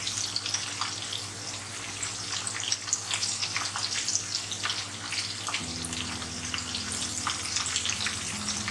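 Coarsely cut green chillies frying with onions in a pan, a continuous crackling sizzle with a steady low hum underneath, close and fairly quiet, with no voices.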